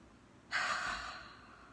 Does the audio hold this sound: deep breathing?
yes